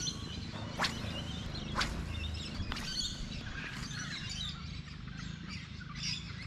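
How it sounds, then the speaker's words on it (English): Sharp, repeated squawks from a bluebird diving at a topwater fishing lure on the water's surface, several harsh calls spaced about a second apart over outdoor background noise near a lake. "Little bluebird was trying to grab it off the surface."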